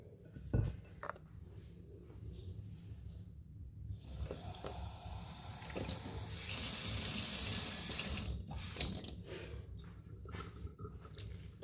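Water runs from a kitchen tap while bread dough is being mixed, a faint close hiss that swells louder midway and then fades with a few small clunks, with no one talking.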